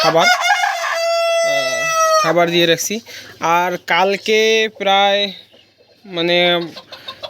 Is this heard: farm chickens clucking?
yes